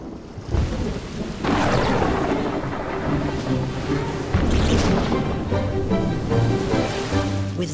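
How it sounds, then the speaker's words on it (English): Steady rain pours down while thunder rolls and cracks, with a loud rumble surging in about halfway through. "Sometimes filled with a thunderstorm."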